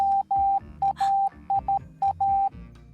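Steady electronic tone keyed into short and long beeps, dots and dashes in a clear rhythm, loud and close with no talking.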